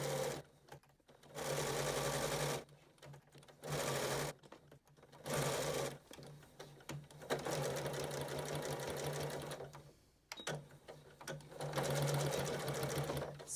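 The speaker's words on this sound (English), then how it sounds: "I stitched over where I started and then I back stitched them" A sewing machine runs in several bursts of stitching through fabric, starting and stopping repeatedly with short pauses between runs, close and fairly loud.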